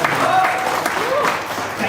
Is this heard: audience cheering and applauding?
yes